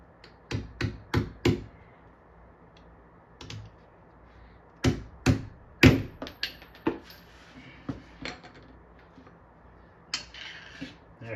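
Sharp hammer blows drive a leg leveler into plywood on a Tempest cabinet, coming in quick bursts of close, loud knocks separated by pauses, with lighter taps trailing off afterward.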